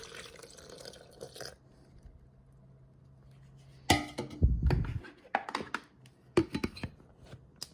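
Half a liter of water poured in with lecithin for a liposomal vitamin C mix: brief splashing and dripping bursts after a quiet stretch, close and moderately loud, with scattered clinks and handling noises, no talking.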